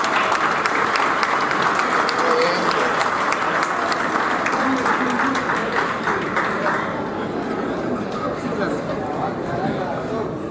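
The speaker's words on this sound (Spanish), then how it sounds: "Un aplauso, por favor." Audience applause at a ceremony honoring a doctor, a crowd clapping continuously with voices and chatter mixed in, fading slightly toward the end.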